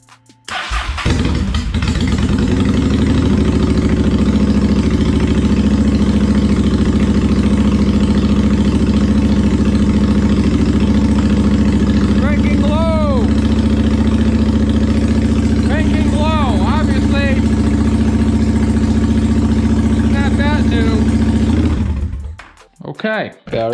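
A car engine cranks and catches during a battery test, then runs at a steady, loud idle for the whole stretch before shutting off, with brief chirping squeaks partway through.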